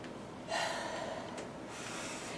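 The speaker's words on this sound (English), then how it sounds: "My breathing under control" Heavy breathing from a cyclist recovering between bike intervals: a sharp gasping inhale, then steady hissing breaths that run close and loud through the clip, with no talk.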